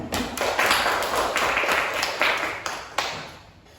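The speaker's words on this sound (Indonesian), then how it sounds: "Beri tepuk tangannya dong" Classroom applause during a microteaching lesson, a short burst of loud clapping with uneven slaps that fades toward the end.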